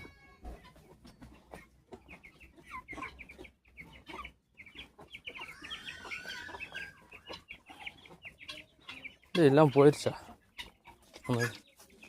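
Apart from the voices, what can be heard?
chickens clucking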